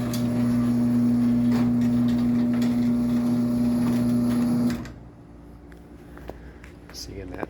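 A LiftMaster 1245 garage door opener drives a small mini door with a 10-tooth sprocket, giving a steady loud motor hum and whine that cuts off abruptly partway through, leaving a quiet room with faint clicks.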